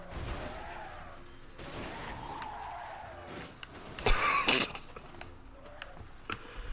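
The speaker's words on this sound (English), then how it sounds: "Rev the Bugatti too hard." Bugatti car in Banjo-Kazooie: Nuts & Bolts engine droning steadily, then a loud burst of crunching impact noise partway through, with scattered clanks after.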